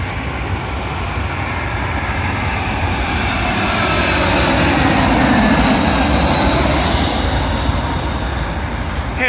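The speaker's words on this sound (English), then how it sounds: "Arriving in now is a British Airways A320 from Belfast," A British Airways Airbus A320 arriving from Belfast lands on runway 27L at London Heathrow, its loud, continuous jet roar swelling midway as it passes close, then holding steady with a broad rushing hiss.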